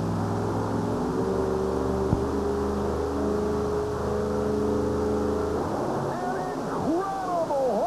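Monster trucks sit staged at the start line of a 1991 USHRA race in Worcester, engines revving in a steady droning roar under loud arena echo before pitches sweep and shift as they launch.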